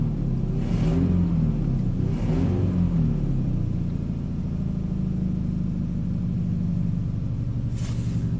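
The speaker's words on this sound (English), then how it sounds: "I can rev it up a couple times." A Mitsubishi Montero 4x4 engine with a lean upstream oxygen sensor revs up a few times, a loud, steady rumble with rising surges, close by and with no talk over it.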